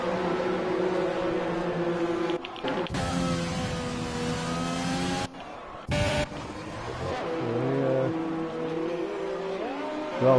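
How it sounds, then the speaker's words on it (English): Ferrari race cars in an F1 racing video game pulling out of the pit lane, steady whining engine tones rising and shifting in pitch with brief gaps, continuous and fairly loud. "So we've got two Ferraris leaving the pit straight away"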